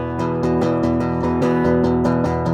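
Dry, unprocessed electric guitar played straight from the instrument line signal with no amp emulation, a repeated rhythmic pattern of steady plucked notes, thin and clean, alone throughout.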